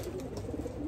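Racing pigeons in a breeding loft give soft, low coos, a brief murmur of close birds with light fluttering-like rustle and no speech.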